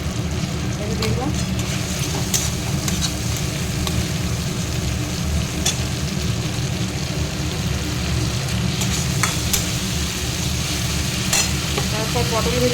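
A paste of tomato, green chili and onion sizzles steadily in a pan for a katla fish curry, with constant loud frying hiss and stirring scrapes throughout.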